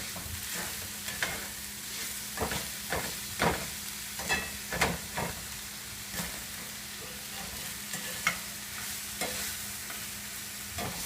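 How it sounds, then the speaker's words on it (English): Ground beef and onions sizzle and fry in a pan while a utensil stirs and scrapes it, giving a steady hiss broken by repeated soft scraping strokes, close and quiet, with no talk. "One more stir, get some of that onion going in there."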